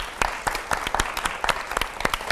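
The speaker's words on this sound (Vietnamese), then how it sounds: "Mong các bạn hãy cổ vũ cho các bạn ấy một tràng pháo tay thật to, thật giòn đây ạ." Studio audience at a dating show applauds with a dense, steady burst of clapping from many hands, moderately loud and continuous throughout.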